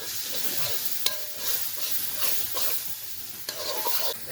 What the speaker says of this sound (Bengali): পেঁয়াজটা হালকা বাদামি রঙের ভেজে নেব